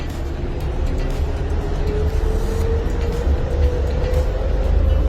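A train rumbles steadily past, with a continuous low roar and a faint tonal whine running through it, loud and close throughout.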